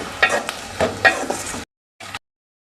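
Ginger garlic paste frying in a pan with fish curry with brinjal, sizzling steadily with a few louder stirring scrapes, close and alone, cutting off abruptly before a brief final burst of sizzle.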